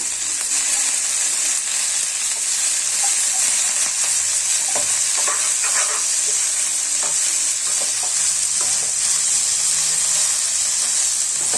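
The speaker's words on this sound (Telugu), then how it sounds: "ఇప్పుడు అలా కలుపుకున్న తర్వాత అవి కొంచెం వేగాయండి" Potatoes, mint and other ingredients for an aloo pudina gravy fry in a pan with a steady, dense sizzle throughout, joined by occasional clicks and scrapes of stirring.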